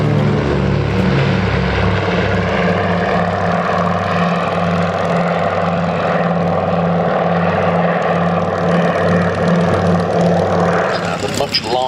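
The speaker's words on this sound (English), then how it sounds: "Very interesting aeroplane, this, designed by F.G. Miles" A vintage Miles propeller aeroplane flies past at an air display, its engine a loud, steady, throbbing drone that fills the whole stretch and stays strong without fading.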